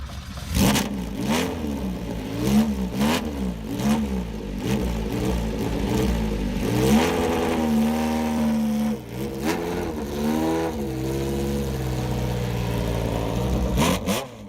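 An Alfa Romeo 230-horsepower V8 engine revs repeatedly, pitch climbing and falling through gears, loud and close for a long stretch with no talking.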